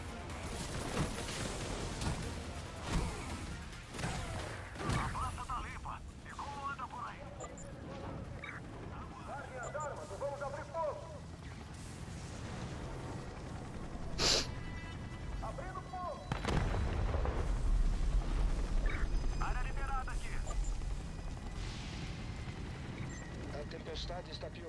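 Enemy gunfire in the video game Gotham Knights: scattered shots and heavier impact bursts at irregular intervals, mixed with other game effects and a voice talking, rising into a louder rumbling stretch near the end.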